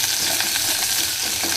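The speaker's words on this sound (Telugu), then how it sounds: "ఒక 2 నిమిషాలు దాన్ని ఫ్రై అవ్వాలి. ఇప్పుడు కొంచెం ఆనియన్స్ యాడ్ చేద్దాం." Green chilli and curry leaves sizzle steadily in hot oil in a pan for a Telugu-style ulavacharu preparation, a continuous close frying hiss with faint stirring clicks and no talking.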